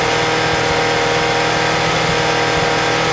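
A 1986 BMW K100 motorcycle engine held at roughly 5,000 RPM with no load, a loud, steady, close mechanical roar without pauses.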